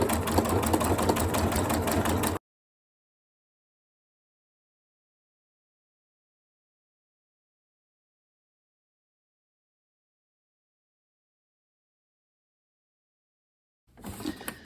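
A Janome Royal sewing machine sews a triple stitch on appliqué, a close, busy mechanical whirring for about two seconds, then a long silence before the machine starts up again at the end.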